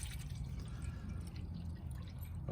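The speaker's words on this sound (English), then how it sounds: "refill this with more hot water so as to not cool the smoker down too much" Hot water poured into the water pan of a food smoker, a soft continuous trickling and dripping of liquid, fairly quiet and close, with no voices.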